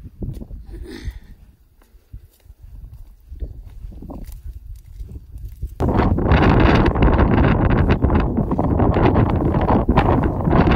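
Gusty wind buffets the microphone at Great Zimbabwe, quieter at first, then turning into a loud, constant roaring rumble for the second half.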